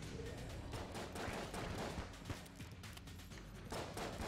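Rapid video game gunfire in Enter the Gungeon, a dense, continuous stream of shots and impacts throughout, quiet and unbroken with no talking.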